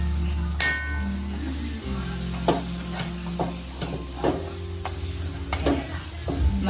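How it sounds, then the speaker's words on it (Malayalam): Spices are stirred into crab curry in a frying pan, a steady sizzle under repeated scraping and clinking strokes of a spoon against the pan, close and fairly loud. "പൊടികളൊക്കെ ഇട്ടിട്ടുണ്ട് നന്നായിട്ട് ഒന്ന് മിക്സ് ചെയ്യുക"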